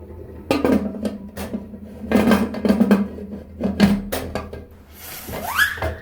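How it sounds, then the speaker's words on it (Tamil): Metal pressure cooker lid clanking and scraping shut on a pot of chicken biryani, several sharp knocks and rattles followed by a rising squeak, close and fairly loud. "இப்போ நம்ம மூடி போட்டு மூடி வச்சிடலாம்."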